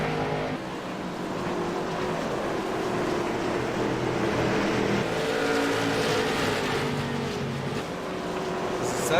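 Race cars lap a track during a 100-lap event with nine cars out, producing a continuous loud engine drone that rises and falls as cars pass, with a commentator's voice faintly under the roar.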